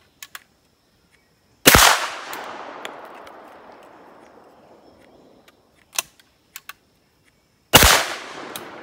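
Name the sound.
shotgun firing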